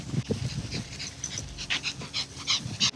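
Dog panting outdoors in San Francisco on a warm, sunny day, soft quick breaths repeating in a steady rhythm, close by, with faint street and crowd noise behind.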